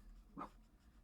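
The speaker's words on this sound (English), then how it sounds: "Now the dog wants back in." A dog gives a single short, faint whimper or whine indoors while wanting to be let back in, one brief cry against a quiet background.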